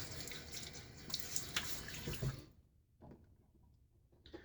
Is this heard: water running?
yes